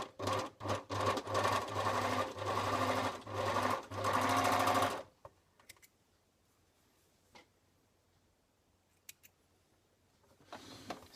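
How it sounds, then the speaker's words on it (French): Overlocker serger stitching a stretchy t-shirt neckband seam, a loud, steady mechanical whir with rapid ticking that runs in short bursts for about five seconds, then stops, leaving faint quiet handling clicks. "J'assemble à la surjeteuse"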